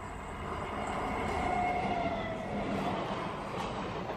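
An Indian Railways EMU electric local train running past, a continuous rumbling roar of wheels on track with a faint high squeal, steady and moderately distant, with no voices.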